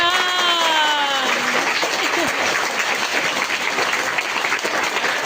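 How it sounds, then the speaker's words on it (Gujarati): At a Navratri celebration for children, an audience bursts into loud, dense applause that follows a brief voice and keeps going steadily throughout. "એમના માટે જોરદાર તાળી."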